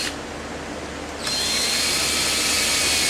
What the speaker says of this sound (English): I'm going to take my trusty speedy drill.